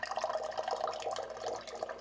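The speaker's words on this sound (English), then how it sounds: "First thing I do is get a glass of water" Tap water runs into a drinking glass in a steady, gurgling trickle, close and continuous for the whole moment, with no voices.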